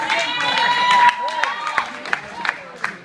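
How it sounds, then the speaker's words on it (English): A church audience cheers and whoops, with scattered claps and excited voices rising over a loud tonal shout at first, then thinning into sporadic claps and calls. "now some of you are cheering"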